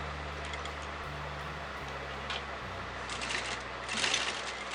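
A sewing machine runs at a steady low hum while sewing lace wrapped around a rope for a half-collar neckline, with a few faint ticks and rustles as the fabric is handled.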